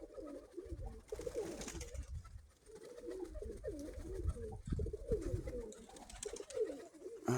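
Several pigeons coo in soft, throaty rolling calls, close by, over a steady low rumble with faint rustling.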